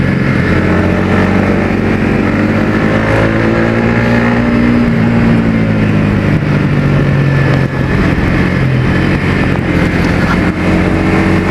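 Yamaha XSR 155 cafe racer motorcycle fitted with an R25 exhaust, its engine running loud and close with a steady throaty drone and gentle rises in revs, no voices over it.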